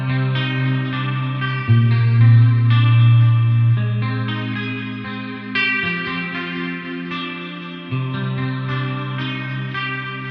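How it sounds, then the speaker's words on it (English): Heavy seven-string guitar riffs played through a compressor, VST amp, chorus and delay, loud and steady with thick low chugs, sustained chords and shimmering echoing tails across about ten seconds. "I've added a compressor,"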